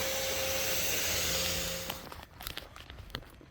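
A vacuum drones steadily for about two seconds, sucking yellow jacket wasps out of an underground nest entrance, then shuts off, leaving faint scattered rustles and taps.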